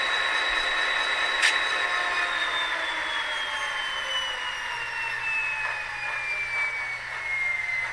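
A GP35E diesel locomotive idles with a steady, even drone and a high whine that slowly falls in pitch, heard at moderate level throughout with a brief clank early on.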